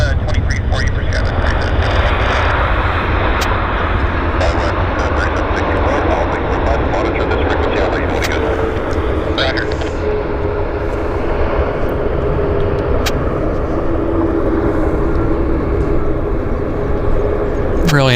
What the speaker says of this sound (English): Nice flare landing. And we'll do a 23 for you for SkyWest.